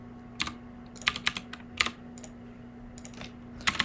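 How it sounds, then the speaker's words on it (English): Clattery keystrokes on a loud mechanical keyboard during a live storm-chasing stream, arriving in short bursts and separate taps with pauses between, close and crisp over a faint steady electrical hum. "it's a mechanical keyboard, so it's pretty loud"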